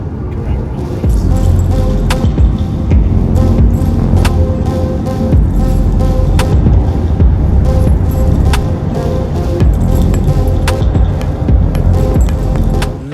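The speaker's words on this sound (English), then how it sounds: "How phenomenal to be cruising in twin Chirons." A steady, loud rumble of driving comes from inside a car cruising alongside a twin Bugatti Chiron hypercar during the Gumball rally. Small rattles and clinks sit over a constant low drone.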